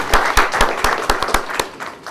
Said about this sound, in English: Let us give this lady a big round of applause.